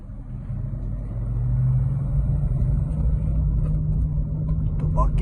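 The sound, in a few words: car engine running while driving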